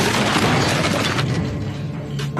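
A loud, dense crash in a film fight scene as a man is struck hard and sent falling on a rooftop, a sustained noisy impact that fades slightly toward the end.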